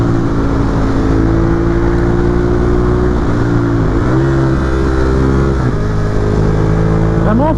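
A Ducati Monster 821 motorcycle, restricted for an A2 licence, pulls hard with its engine note climbing up through the revs, broken by a few short drops at the gear changes. The sound stays loud and close throughout.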